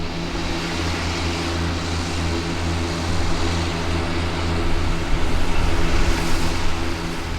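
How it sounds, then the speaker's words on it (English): New Holland 8770 and 8870 tractors ploughing dry wheat stubble with Dowdeswell ploughs in the evening, a steady loud diesel drone with constant low engine harmonics swelling slightly as they work. "ploughing wheat stubble this evening with New Holland 8770 and 8870 tractors and Dowdeswell ploughs"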